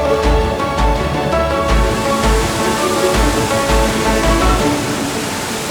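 Water rushing beside an old stone watermill along a rural Galician riverside route, a loud, continuous roar of flowing water heard close up with nothing else over it.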